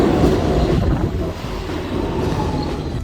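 A SEPTA westbound L subway train rolls into a station with a loud, close, rumbling roar and a faint thin wheel squeal, the din easing slightly as it slows, with no talk.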